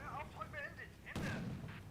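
A single heavy artillery blast in the Combat Mission: Shock Force 2 war game lands loud and broadband after a stretch of voice radio chatter, then rumbles on briefly.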